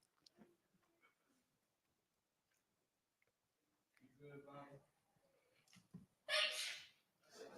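A sharp, sudden sneeze bursts out near the end, following quiet breathing and some low murmured talk.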